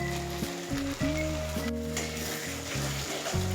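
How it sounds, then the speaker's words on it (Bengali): Ground coconut paste sizzles and fries in hot oil in a pan, a steady hiss running beneath louder background music. "এবার এর মধ্যে দিয়ে দেব নারকেল বাটা।"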